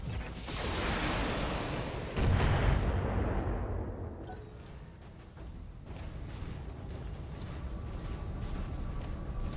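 Mech weapons firing in the Battletech video game: heavy booming blasts with a long rumbling roll-off, one big hit landing a couple of seconds in, followed by a sustained low mechanical drone.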